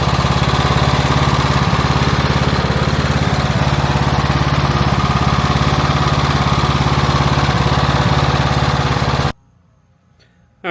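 A Troy-Bilt Bronco riding mower engine runs loud and close with a steady, even drone and faint rhythmic pulsing for about nine seconds, then cuts off abruptly into near silence.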